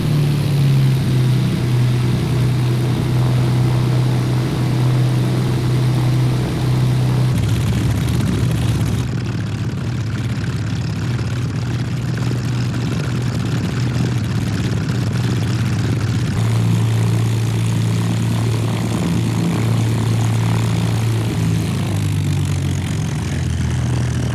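A Beechcraft Baron twin propeller plane taxiing in the X-Plane 11 flight simulator gives a steady, loud engine drone with a low hum that runs unbroken throughout, shifting slightly in tone partway through.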